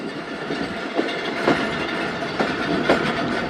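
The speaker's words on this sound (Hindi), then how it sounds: "10:31 पर ट्रेन करंडा रेलवे स्टेशन पास हो रही है" The Zakariya Express passes Karanda railway station, heard from on board as a steady rolling rumble with rhythmic clickety-clack of wheels over rail joints recurring about every half second.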